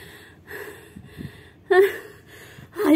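Heavy breathing and gasping after a hike, a few uneven breaths and sharp gasps close to the microphone, with audible voice sounds mixed in.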